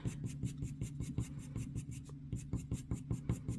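Colored pencil shading light brown hair on paper, a rapid series of quiet, rhythmic scratchy strokes close up, repeating at a steady quick pace.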